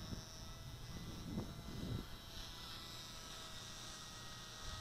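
A small WLtoys F949 RC airplane flies with a continuous buzzing electric motor hum, steady and fairly faint at a distance, with a few low thumps early on.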